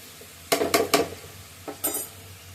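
Vegetables being stirred in a hot frying pan, with three close scraping, sizzling bursts in quick succession, then two softer stirs after a short pause, with no talking.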